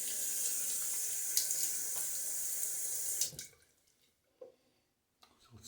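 Tap water runs steadily into a sink for about three seconds, loud and close, then cuts off, leaving a few faint drips and splashes as a face is wetted before a shave.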